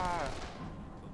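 A short, muffled boom of video game gunfire that rolls off quickly, heard close and fairly loud.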